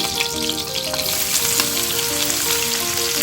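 Onions and chillies fry in hot oil for a mango mutton curry, making a loud, steady, close sizzle with crackling pops and no voices.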